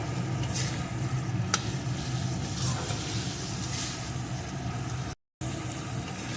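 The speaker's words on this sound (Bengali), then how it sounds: "এখন এইভাবে সমানে নাড়তে হবে আর রান্না করতে হবে" Mung dal cooking with bottle gourd peel in a pan, stirred continuously as the water dries off, giving a steady low sizzle with soft scraping and stirring throughout, one brief sharp clink partway through.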